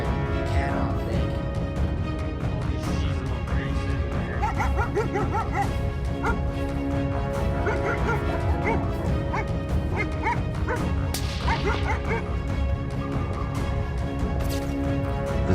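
Hunting dogs bark and yip repeatedly at the base of a tree in cold air, several voices overlapping in quick, excited bursts at moderate distance.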